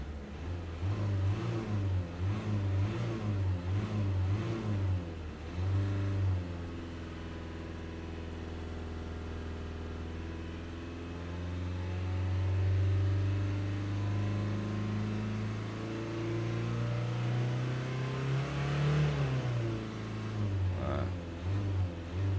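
A Mercedes-Benz Citan 109CDi diesel van engine, which has a differential pressure sensor fault, idles with a steady low hum, then revs up and down in rising and falling surges, close by and without talk.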